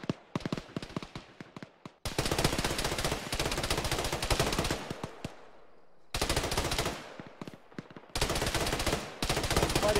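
Automatic gunfire rattles in the military video game Arma, loud rapid bursts of machine gun fire with brief gaps between volleys, sharp close shots and scattered single cracks.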